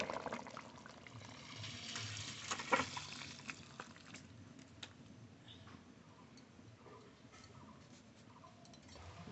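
Fish curry made from a 2 kg fish is poured out of the pan. A faint liquid trickle comes with soft ticking and a few light scrapes. It is louder early on and thins to a quiet background.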